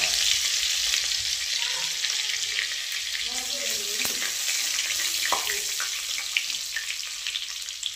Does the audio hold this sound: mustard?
yes